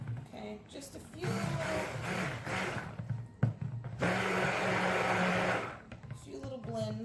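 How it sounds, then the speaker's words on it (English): A stick blender whirs through cold process soap batter for Egyptian Musk soap in two close, steady bursts of motor buzz, separated by a short pause, with quiet handling noise before and after. "little blends from the stick blender."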